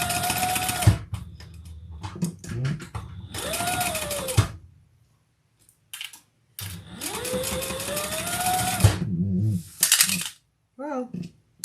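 Sewing machine basting leather for a modified bag, with several bursts of stitching separated by pauses, the motor whine rising and falling in pitch as each run speeds up and slows, plus a few small clicks.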